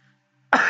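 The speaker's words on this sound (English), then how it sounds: "Hold up, I got a cough." One loud, close cough from someone with a cold bursts out after near silence, a short harsh throaty blast.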